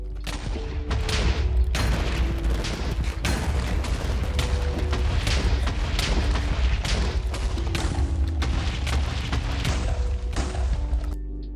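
Dense barrage of explosions in Minecraft on the 2B2T server during a spawn event, continuous loud overlapping booms and cracks lasting throughout with no pauses.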